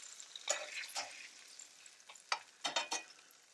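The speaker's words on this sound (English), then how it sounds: "I'm going for a nice sear" Short ribs searing on a wood-fired kitchen stove give a faint, soft sizzle, broken by several brief scraping and clattering bursts as the meat is moved around, with no talk.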